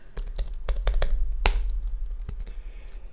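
Someone types a zip code on a computer keyboard, a close run of crisp irregular key taps with short pauses, no speech over them.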